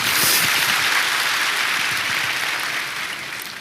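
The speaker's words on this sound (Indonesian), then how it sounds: "Berikan tepuk tangan kita untuk Tuhan kita." A church congregation claps for God at a Pentecost service, a dense, even wash of applause that stays strong and slowly tapers toward the end.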